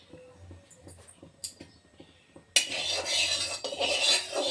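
Eggs for an egg curry hit hot oil in a pan, setting off a sudden loud sizzle that carries on steadily, after a few soft clinks of utensils and quiet kitchen handling.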